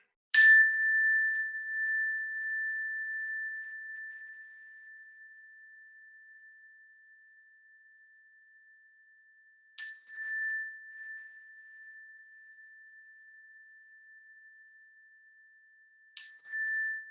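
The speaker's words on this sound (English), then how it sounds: "at the sound of the bell, you can open your eyes, take a breath, and come back to the group" A meditation bell is struck to close a breathing exercise in a therapy group session, three clear rings with long, pure sustaining tones that decay slowly, spaced about ten and six seconds apart, with no talking.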